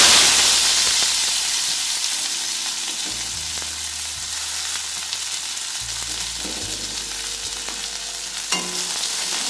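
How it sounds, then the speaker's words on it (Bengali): Chopped onions fry in oil in a wok. The steady, fairly loud sizzle is broken by occasional stirring scrapes and a low background hum, with no talking. "পেঁয়াজগুলো দিয়ে একটু ভাজতে হবে"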